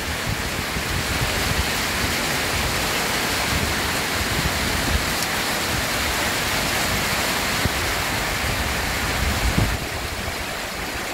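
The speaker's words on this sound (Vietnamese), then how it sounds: "Mưa nay vừa vô gần tới mưa quá trời." Heavy rain falls as a dense, steady roar that stays loud and unbroken throughout, with no voices over it.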